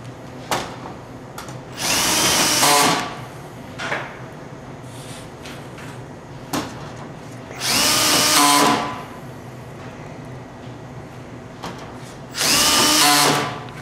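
A power drill drives screws into pre-drilled holes to join SmartBoxx deck sections, giving three loud, close whirring bursts of about a second each, separated by clunks and handling noise from the parts.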